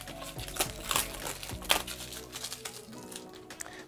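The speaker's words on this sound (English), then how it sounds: "If you take off this plastic here," A plastic protective cover is peeled off the charger port of an iRobot Braava Jet 240 robot mop, making close, quiet crinkling and crackling with a few sharper snaps and no voices.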